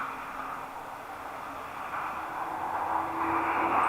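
A DHL aircraft engine at East Midlands Airport spools up as a steady, rising whine and roar, heard from a distance and building gradually in loudness.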